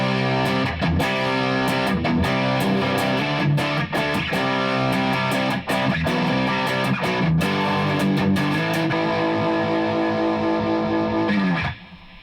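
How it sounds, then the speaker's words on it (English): Heavy distorted riffing on a Chibson Explorer electric guitar with ceramic pickups through a rat-style distortion pedal, loud, dense and continuous, then cut off abruptly near the end. "How about a rat type distortion?"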